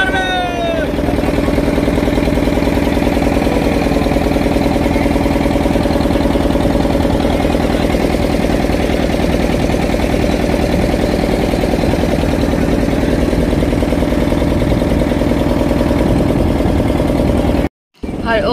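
A motor boat's engine drones steadily and close by as the boat pulls away on a river, a continuous mid-pitched hum that briefly cuts out near the end; a voice speaks over it.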